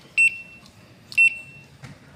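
A small electronic buzzer wired to an RP2040 board gives three short, sharp double beeps about a second apart, loud and close, with no one speaking.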